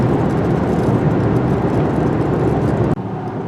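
A 2024 Mazda CX-90 PHEV plug-in hybrid cruises on the highway on gasoline alone, giving a loud, steady broadband road and engine roar that drops off abruptly near the end.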